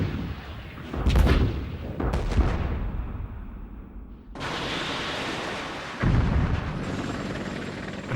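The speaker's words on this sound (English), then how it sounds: "Armed missile, I'll shoot it down range." A missile fires down range in a Gulf War battlefield setting, with sharp loud blasts near the start, a rumbling roar, then a sudden sustained burst of noise and another heavy boom, no talk.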